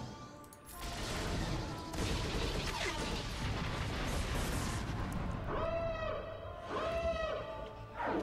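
Bombs exploding in the mobile game Star Wars Galaxy of Heroes, a dense, loud run of booms and crashes over game music, with bright chiming tones rising near the end.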